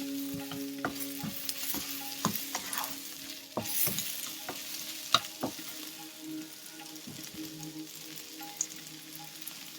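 Thai cashew chicken stir-fries in a pan with chili paste, a steady close sizzle broken by frequent sharp spatula clicks and scrapes against the pan, with no talking.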